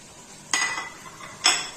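Two sharp metallic clinks of a spoon against a pan as ground spices such as red chilli, turmeric, coriander and cumin go into a frying mix, spaced about a second apart over quiet low sizzle.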